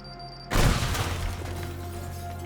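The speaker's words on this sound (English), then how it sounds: "Let's hear it for bomb number 12." A bomb detonates in the destruction game Teardown, a sudden loud blast followed by a rumbling crash of debris that slowly fades into a lingering roar.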